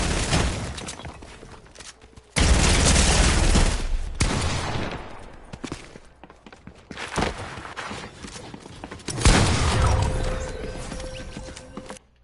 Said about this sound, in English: he hit every shot with that P90